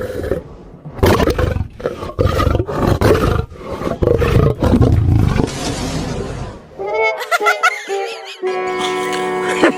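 A man imitates a lion's roar with his voice, several loud, rough growling bursts in quick succession, followed by shrill musical sound effects; no other talk is heard.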